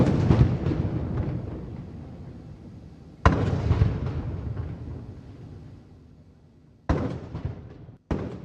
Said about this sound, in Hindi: तोपों की सलामी दी गई।